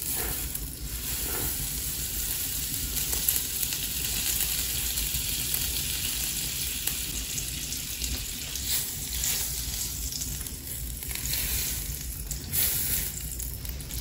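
Butter sizzling and frying on a plow-disc griddle over a wood-fired stove, a steady crackling hiss that carries on throughout with small pops and no talk.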